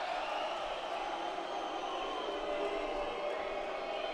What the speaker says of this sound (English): The crowd with plenty to say